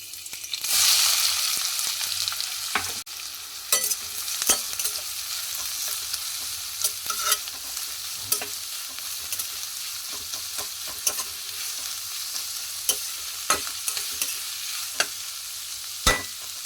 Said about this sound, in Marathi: तेल गरम झाले की आपण याच्यामध्ये कांदा घालून घ्यायचा आहे.